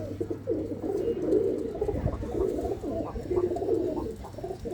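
Chap pigeons coo repeatedly in soft, low, throaty phrases, close by and fairly steady, over a faint background hum.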